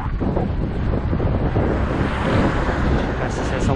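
Heavy wind buffeting a camera microphone on a mountain bike heading downhill into a headwind at about 27 km/h, a continuous loud roar filling the whole stretch with no talk.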